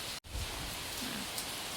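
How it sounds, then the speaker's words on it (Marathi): Rain falling steadily in a village, a soft, even hiss of drops heard alone for a couple of seconds. "मस्त असं गावाला पाऊस पडतोय."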